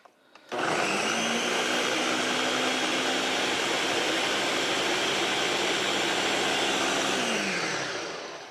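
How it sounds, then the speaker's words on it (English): A blender roars at high speed through a peanut butter and banana high-protein mixture, a loud, steady whirring that starts abruptly, holds evenly for several seconds, then winds down, with no voices. "So we're gonna go ahead and put this on blend"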